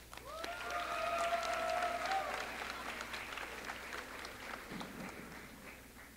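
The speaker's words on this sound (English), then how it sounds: "Now let's give them a big round of applause." Applause from the audience at a high school baccalaureate ceremony, a broad crowd clapping that swells and then slowly fades, with a few voices and a brief whistle-like tone near the start.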